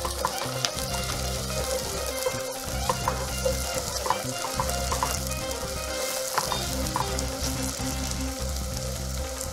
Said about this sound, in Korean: 중불에서 열심히 중간중간 물을 약간씩 부어가면서 볶으면 갈색으로 양파가 맛있게